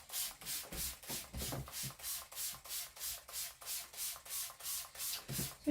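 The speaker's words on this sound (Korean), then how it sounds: "먼저 분무를 해보도록 할게요" Rhythmic pumping bursts of a handheld spray bottle misting hair during a perm rod winding, about a dozen evenly spaced hissing sprays, close and steady, with no talking.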